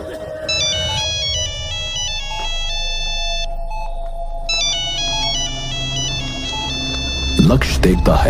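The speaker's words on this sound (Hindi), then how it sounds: "फोन लगातार रिंग हो रहा है।" A mobile phone ringtone plays over and over, a bright repeating melodic tone heard clearly, then a sudden burst of noise near the end.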